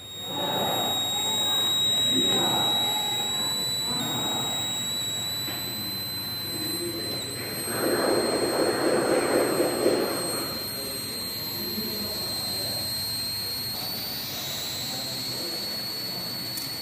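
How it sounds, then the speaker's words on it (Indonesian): A homemade IC 555 timer alarm buzzer, triggered by a limit switch on a house door, gives a steady high electronic tone that runs continuously throughout, with a faint hum and a brief louder burst of noise midway. "alarm ini akan memberikan sinyal bunyi alarm bila pintu rumah terbuka"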